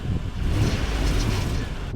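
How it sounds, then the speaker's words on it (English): Rattle from a Toyota Land Cruiser 100 idling in neutral, a steady low engine rumble with a faint continuous buzz over two seconds, close and even in level, no talk. "You guys hear that rattle?"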